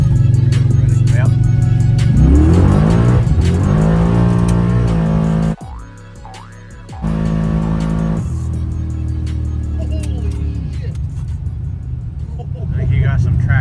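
A car on nitrous accelerating hard through second gear, its engine climbing in pitch through loud revving before cutting off sharply, then rumbling and pulling again; voices talk over parts of it.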